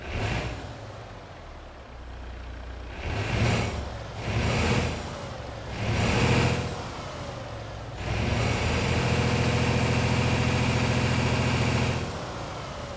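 A truck's petrol engine idles high and steady, revving up in several short surges before settling into a loud, even, raspy drone.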